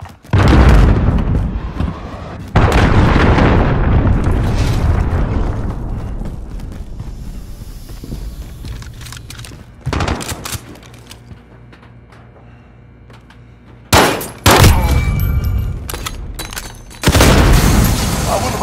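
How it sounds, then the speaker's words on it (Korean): Friendly cruise missile strikes in Call of Duty Modern Warfare Remastered hardcore multiplayer land as several loud, deep booming explosions with rumbling tails, separated by quieter stretches. "아군 순항 미사일 발사."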